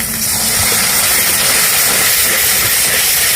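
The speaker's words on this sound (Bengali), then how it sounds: "গ্রেভিটা ফুটে উঠেছে" Egg pepper masala gravy boiling hard in a pan, a loud, dense, continuous steamy hiss and bubbling roar that stays level throughout, heard close with no voices.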